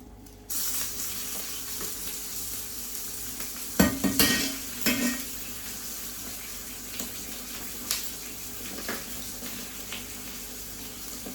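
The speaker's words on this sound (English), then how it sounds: "So we're gonna put some onion in that pot now." Onion, garlic and butter frying in a pot for a snow crab seafood boil, stirred with a steady sizzle and a few sharp utensil scrapes and clunks early on, close by with no talk.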